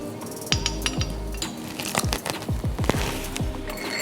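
Apple fritter batter is stirred in a bowl, with a run of uneven clinks and scrapes of the utensil against the bowl, close and distinct.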